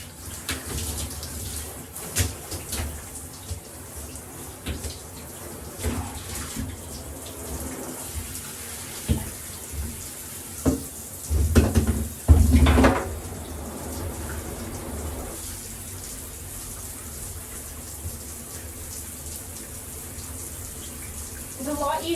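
Water runs steadily from a tap while a bathroom is rinsed, a continuous hiss and splash with a brief stronger gush partway through, close by, with occasional knocks and handling noises.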